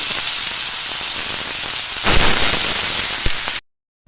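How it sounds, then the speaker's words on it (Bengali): Potatoes and onions go together into hot oil, and a steady crackling sizzle surges louder as they hit the pan before the sound cuts off abruptly. "দিয়ে দিচ্ছি আলু আর পেঁয়াজ একসঙ্গে দিয়ে ভালো করে ভেজে নেব"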